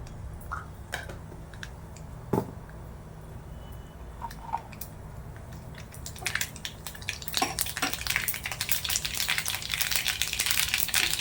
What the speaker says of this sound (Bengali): এবার আমি প্রথমে একটু সর্ষে ফোড়ন দেবো